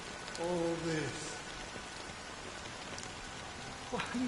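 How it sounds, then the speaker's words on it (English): Soft, steady rain from the Honkai Star Rail video game, set in Penacony, patters as a faint, even wash, with a brief voice near the start and again at the end. "But it's still raining."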